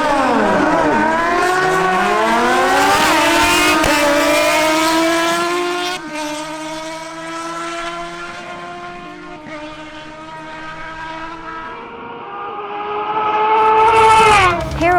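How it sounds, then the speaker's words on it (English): A Kawasaki ZH2 and a Suzuki GSX-S750 scream through the gears in a drag race, with engine pitch climbing and dropping through repeated upshifts. The loud close passes fade and then swell again near the end. "Harold Rodolo on his Kawasaki ZH2 faces Christian Alcala on his Suzuki GSX-S750."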